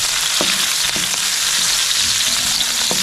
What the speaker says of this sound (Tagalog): Gisa na po tayo. Yan ang ating luya. Bawang sibuyas, siyempre yung sili ni Kabida.